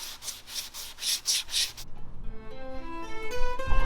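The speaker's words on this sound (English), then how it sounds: "I'm sanding my glaze in 180" Rhythmic strokes of 180-grit sandpaper scrape back and forth over body filler glaze on a car's dented bodywork, about a dozen quick rubs, before a low mechanical hum takes over.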